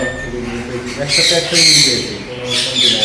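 Pet parrots and lovebirds, including Amazon parrots, squawk loudly at close range, several harsh calls in bursts over a steady background hum.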